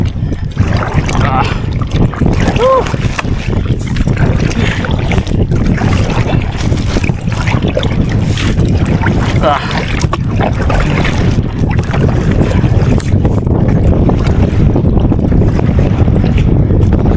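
Paddles splash and dip in water as a kayak moves along the Vistula river, with wind buffeting the microphone and people talking throughout.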